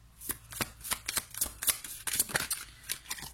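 Tarot cards shuffled by hand, a rapid series of crisp riffling snaps and slaps in an irregular rhythm, close and fairly clear with no talking.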